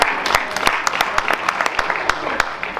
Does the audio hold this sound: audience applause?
yes